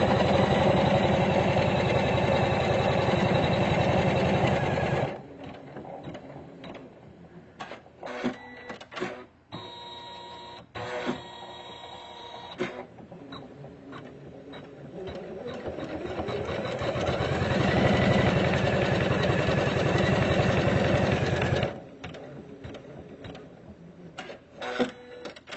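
A Usha Janome Memory Craft 550E computerized sewing machine stitching out a digitized design, a loud steady mechanical whir that stops, gives way to brief clicks and pauses, then starts up again before stopping once more.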